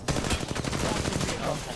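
Rapid gunfire in the mobile battle royale game Apex Legends Mobile, a dense unbroken burst of loud automatic shots filling the whole short moment with no talk.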